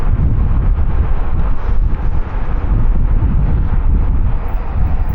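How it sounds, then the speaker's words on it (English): Strong wind roars steadily across the microphone during a bike ride near Villanova de la Torre in Castilla-La Mancha, a loud, continuous buffeting rush with no voices. "Boy, it's windy"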